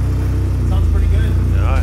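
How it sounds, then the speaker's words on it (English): A Speedwerx Sled-X custom snowmobile engine runs close by with a steady, throbbing low idle that holds even throughout. "Let's fire this thing up so you guys can hear it."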